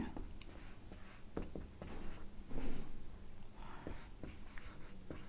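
Pen scratching across paper, with steady close strokes and short taps while a trigonometry proof is written out by hand, alone with no talk.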